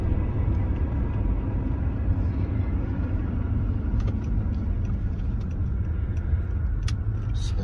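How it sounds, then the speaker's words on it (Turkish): A car on a road near the Kastemies border crossing, heard as a steady, loud low rumble of engine and road noise that holds constant throughout, with faint clicks on top. "Buradan araba geliyor, ona yol verelim."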